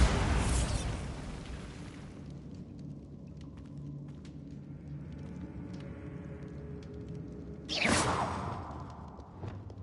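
The Bombarda blast spell in Hogwarts Legacy: a loud whooshing burst opens, then decays into a low rumbling tail over quiet ambience, and a second, smaller burst flares up near the end.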